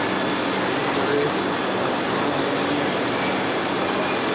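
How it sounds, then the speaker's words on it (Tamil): A train on the SMVT Bengaluru to Tirunelveli route pulls out of the station, heard as a loud, steady, broad rumble and rush of wheels and carriages that fills the whole stretch without letting up. "அதுக்குள்ளே விட்டுட்டான் ட்ரெயின், தள்ளி விட்டான்."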